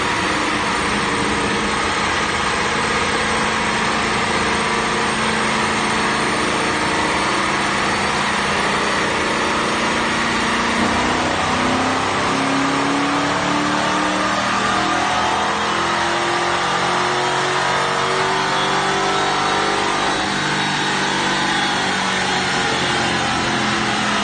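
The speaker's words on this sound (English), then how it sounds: "we just made a few dyno pulls on with this car on the DynoJet FJ Performance" A car engine revs hard through repeated pulls on a DynoJet dyno, a loud, continuous mechanical roar that climbs in pitch through the run, with no talking over it.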